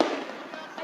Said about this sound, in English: Those smoke bombs seem to have tear gas or mace